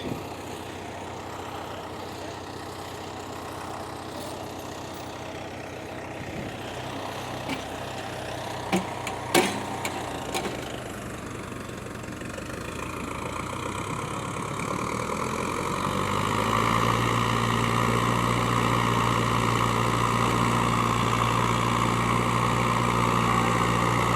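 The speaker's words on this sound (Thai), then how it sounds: "วันนี้พามาดูรถขุด คูโบต้า U55 ครับ" Kubota U55 excavator with its engine running steadily outdoors, a continuous diesel drone that grows louder and heavier partway through as the machine works, apparently pulling a stuck tractor, with a few brief knocks along the way.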